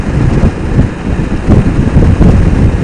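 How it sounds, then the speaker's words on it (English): Crosswind buffets a microphone on a helmet with its 4-inch visor removed, a loud continuous low rumble with gusting surges throughout and no voices. "But that's crosswind, not in front of my face wind, or a combination of."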